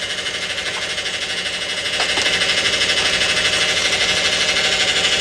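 A failing car transmission with low, burnt fluid whines steadily, a continuous mechanical drone with a faint rhythmic pulse that grows slightly louder partway through, with no talking.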